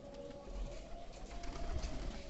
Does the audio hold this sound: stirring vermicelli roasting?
no